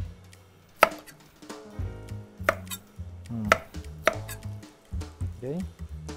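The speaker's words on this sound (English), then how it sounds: "Tapos, putol tayo ng ginger." A knife chops fresh ginger for a chicken rice dish, giving sharp, irregular thuds on a cutting board, several close strikes with short pauses, loud and alone without talk.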